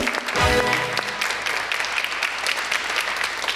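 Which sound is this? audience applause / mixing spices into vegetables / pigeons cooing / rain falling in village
audience applause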